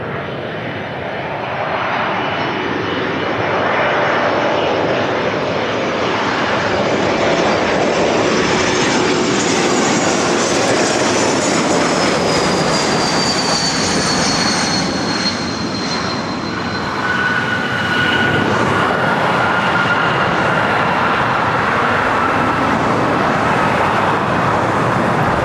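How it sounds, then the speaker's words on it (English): A Porter Airlines Embraer E195-E2 jet inbound from Toronto lands at LAX, its engine roar loud and steady throughout with a rising whine partway through, set against background traffic noise. "that was Porter, Flight 663, coming in from Toronto on an E195 E2"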